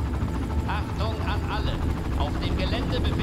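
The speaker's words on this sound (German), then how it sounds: "Und ich höre einen Hubschrauber." A helicopter in the video game Far Cry, set in a tropical area, gives a steady low rotor drone throughout while someone speaks over it.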